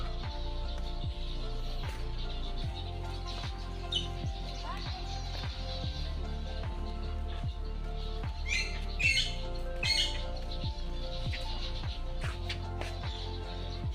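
Harsh parrot squawks ring out in bursts from a zoo aviary over a steady background hum, a few louder calls standing out near the middle.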